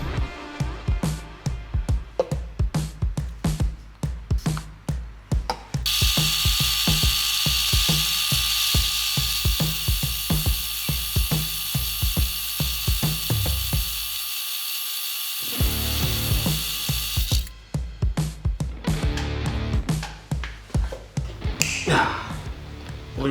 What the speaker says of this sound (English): Loosening pommel nut, adjusting pommel, tightening pommel nut just a little bit